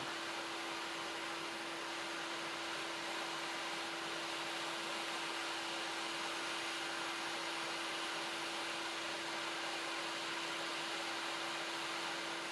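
Steady, loud hot-air rework station blowing continuously over an Xbox console's chip during reflow, a constant whooshing hiss with a sustained tonal whine and no pauses.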